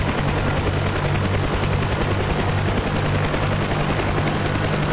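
A UH-1 Huey helicopter in the DCS flight simulator has its turbine spooling up under slowly raised throttle, a loud, steady, dense roar with rhythmic rotor beating throughout.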